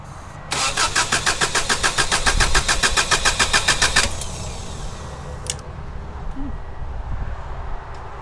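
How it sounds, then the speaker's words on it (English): A high-mileage Subaru EJ22T engine with its fuel injectors unplugged cranks over for a compression test, giving a rapid, even chug of starter strokes for about three seconds before it stops, then quieter clicks and shop ambience. "we're going to unplug the fuel injectors and crank it."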